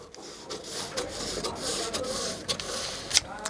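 Fabric for a bra-cut blouse being cut with scissors, a close, continuous scraping and rasping with a few sharp snips near the end, with no speech.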